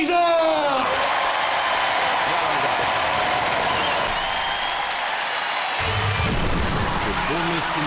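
Crowd cheering for the robot Razer at a Robot Wars arena event, a steady loud roar of applause and whoops beneath an announcer's voice.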